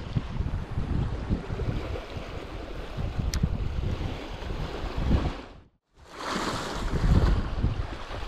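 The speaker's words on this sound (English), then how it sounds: "There's a little bit of wind" Wind blowing by the sea on an afternoon bass fishing shore, a steady rushing buffet with low rumbling gusts close to the microphone, briefly dropping out before returning just as strong.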